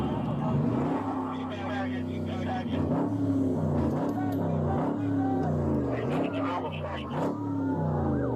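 Dodge Challenger Hellcat Redeye engine revving repeatedly in rising, falling surges during a police stop, heard close and loud beneath steady talking voices.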